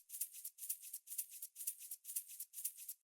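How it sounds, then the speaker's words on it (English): Shaker sample from a jazzy underground house track, six evenly spaced bright rattling shakes in a steady rhythmic loop, soft and crisp with no other sound. "The next sound we got here is the shaker"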